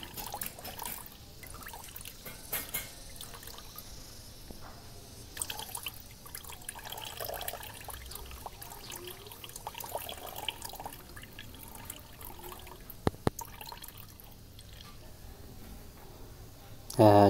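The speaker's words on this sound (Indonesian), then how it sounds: "endapan ini kita bilas atau cuci dengan air panas sebanyak 3 kali" Gold sediment recovered from electronic connector pins is rinsed with hot water, producing running, trickling and pouring sounds throughout, with a voice talking intermittently and a couple of sharper clinks near the end.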